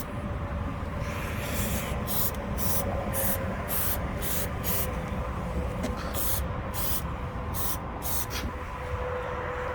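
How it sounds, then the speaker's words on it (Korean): A Finnish-made anti-slip spray can hisses onto the underside of an electric car in about a dozen short, evenly spaced bursts over a constant background rumble. "이제 스프레이를 마쳤습니다."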